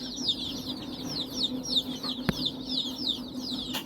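Gavran country chicks cheeping continuously in a rapid high chorus, close by on a farm, with a low steady hum beneath and one sharp knock partway through.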